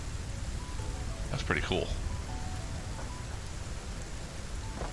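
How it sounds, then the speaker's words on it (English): Steady rain falls over a factory build in the video game Satisfactory, a constant hiss pattering on foundations throughout, with someone speaking briefly over it. "look at the sound of that rain"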